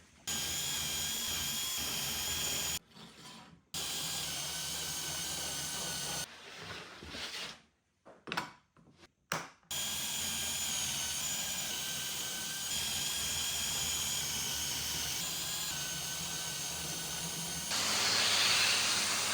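Shelf pin holes are drilled into a wall cabinet, the loud, steady whine of the power drill running in long bursts broken by short pauses and a choppy stretch of stops and starts.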